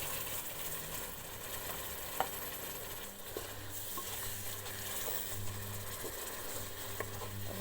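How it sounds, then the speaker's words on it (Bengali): Blended tomato poured into a hot pan for cheese pasta, giving a steady close sizzle and frying hiss with occasional light stirring scrapes, and no talking. "আমি যেই টমেটোটা ব্লেন্ড করে রেখেছিলাম সেটা এখানে দিয়ে নিলাম।"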